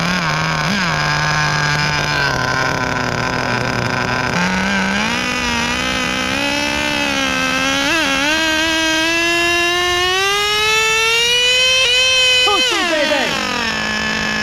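A Kyosho V-One RR nitro RC car with an OS 12TR engine screams loudly and close, its pitch climbing steadily as it revs and shifts, then dropping back sharply toward idle.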